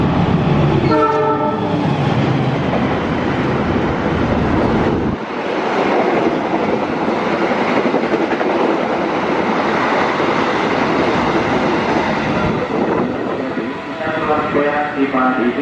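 A passenger train hauled by a locomotive roars past close by in Indonesia, its horn blaring at the start, wheels rumbling and clattering over the rails with wind buffeting the microphone.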